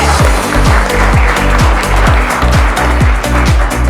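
An audience applauds a competition winner at an environmental-theme event, loud, dense continuous clapping, close up, with a repeating low thumping beat of music running under it.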